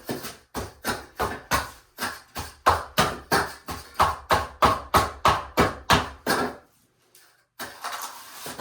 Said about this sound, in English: Then I'll take my trowel at the end and pound it in there really good.